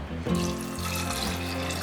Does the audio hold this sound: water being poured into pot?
yes